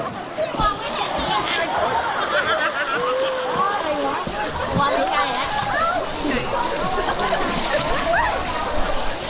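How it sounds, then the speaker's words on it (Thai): People splash sea water at each other off the coast of Trang, Thailand: constant close-up splashing and sloshing, with excited voices shouting and laughing throughout. "สาดน้ำสาดน้ำสาดน้ำสาดน้ำ"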